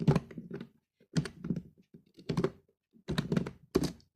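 Computer keyboard typing while entering Java code for an Android app, in four short bursts of rapid, close clicking keystrokes separated by brief pauses.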